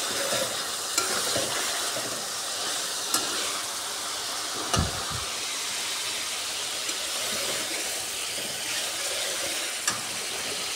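Mola shutki, small dried fish, frying with eggplant and tomato in a pan: a dense, even sizzle runs throughout, with a few soft knocks of the stirring spoon against the pan.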